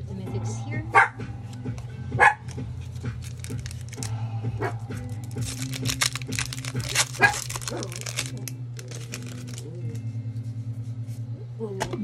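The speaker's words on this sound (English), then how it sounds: "my dog is barking in the background" A pet dog barks a few times in the background, two sharp loud barks standing out, over a steady low hum with occasional crinkling and handling noises nearby.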